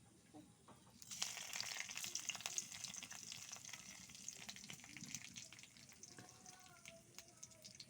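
Cumin, five-spice and bay leaf hitting hot oil, a sudden bright sizzle that starts after a quiet second and keeps crackling, thinning toward the end with faint clinks.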